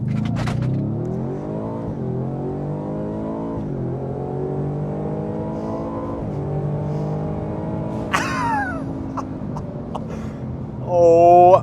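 A 2023 Ford F-150 Raptor R truck drives with its engine droning loudly and steadily, pitch climbing through gear changes with a brief sharp burst partway through and a final surge of revving.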